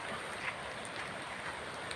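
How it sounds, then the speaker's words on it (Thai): Heavy rain with wind outdoors in Thailand, a dense steady hiss of falling drops pattering on surfaces, constant and fairly close, no voices. "เป็นเสียงลมเสียงฝนนะครับ"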